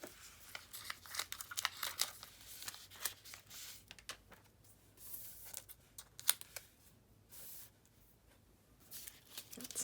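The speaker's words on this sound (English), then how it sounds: "I'll cut a few more random shapes." Scissors cut shapes out of colored paper, close up, in uneven runs of sharp snips and crinkling paper with short pauses between them.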